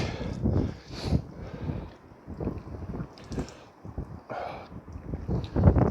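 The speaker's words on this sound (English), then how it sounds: "This wind is not very good at all." Wind buffeting a microphone outdoors in a garden, low rumbling gusts that rise and fall unevenly across the recording, with faint rustling and no clear voice.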